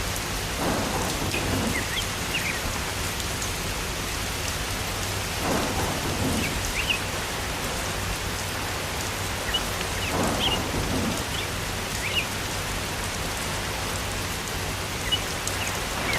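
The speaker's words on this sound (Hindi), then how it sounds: "हवाएं तेज है, आंधी तूफान है।" A cartoon thunderstorm with heavy rain and strong wind: steady hissing downpour throughout, broken by several deep rolling thunder rumbles spaced a few seconds apart.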